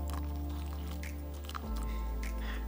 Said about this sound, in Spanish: Y hay que meterle agua o bien caliente o fría hasta la rayita 3